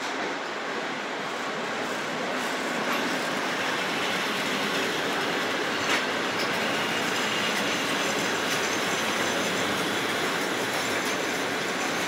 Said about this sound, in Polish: Podstawia się teraz TLK Małopolska.